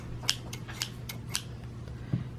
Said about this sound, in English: you're also going to need your scissors